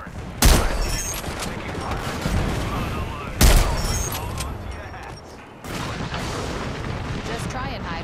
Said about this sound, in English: Knuckle clusters fire.